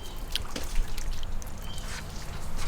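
Water drips and trickles off a freshly waxed Jeep TJ after being sprayed, a soft close patter of small droplets with a few brighter splashes, steady and fairly quiet.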